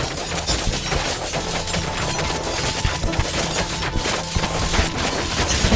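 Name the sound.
sanctuary tower shooting in the video game Thronefall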